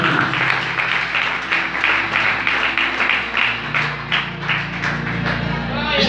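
A crowd claps and applauds in steady rhythmic bursts, fairly loud, with voices mingling underneath.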